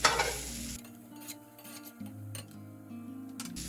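Onion and garlic sizzle in bacon fat in a pot for Southern smothered cabbage, a brief loud crackle that settles into a softer hiss with occasional stirring clinks and a steady hum underneath.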